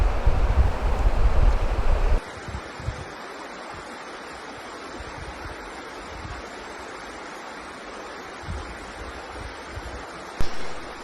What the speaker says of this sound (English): Praise be for rivers.